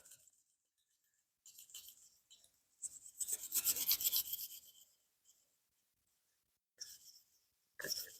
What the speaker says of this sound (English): Next, we're going to brush our slide. Make sure you get the sides as well.